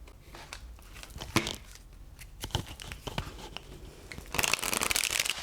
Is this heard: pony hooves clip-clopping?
no